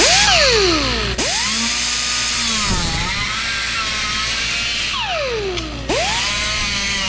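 A power tool cuts into a SprayMax 2K gloss clear aerosol can, its loud whine dipping and rising repeatedly as the blade bites the metal, close by and with no talk.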